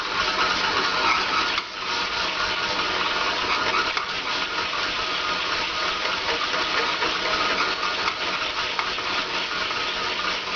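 Stand mixer with a dough hook kneading khachapuri dough, a steady close motor whir with faint rhythmic knocking of the dough in the bowl, continuous and without speech.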